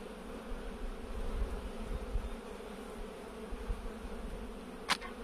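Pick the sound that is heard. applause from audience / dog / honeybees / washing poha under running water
honeybees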